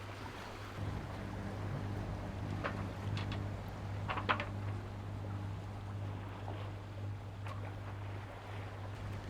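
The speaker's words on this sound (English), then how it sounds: "Just now we had a chance to raise the mainsail." A catamaran under sail in a light beam wind off southern Turkey, with a steady low drone of wind and water rushing past the hulls and a few faint knocks and creaks scattered through, no voices.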